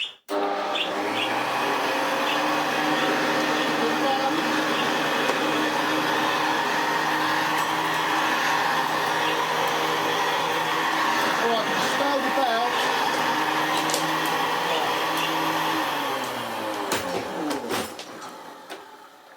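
A Hoover Senior 6525e upright vacuum cleaner runs steadily and loudly for most of the stretch, its motor and a strained belt droning with a whining hum before winding down near the end.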